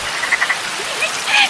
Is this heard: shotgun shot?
no